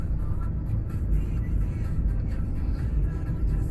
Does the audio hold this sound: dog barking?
no